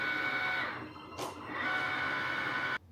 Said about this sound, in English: Insert this into the Cricut. Please, Cricut, do the cut.